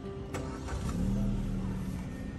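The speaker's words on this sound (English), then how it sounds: "I'm going to press the start-stop button here." A Suzuki Baleno 1.4 GLX engine starts from a push of the start-stop button, with a short click, a brief crank and then a steady idle hum, all close up with no talk.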